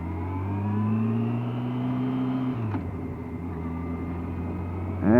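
A 2006 Yamaha FJR1300 motorcycle engine hums steadily on a wet road, then drops in pitch as the rider shifts down to first gear, idles briefly and revs sharply up again at the end, no talk.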